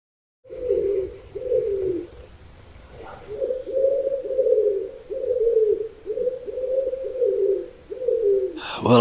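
Pigeons coo in a forest in the morning, a steady run of soft, low, rounded calls repeating in rhythm at moderate distance, with faint outdoor background and no talking.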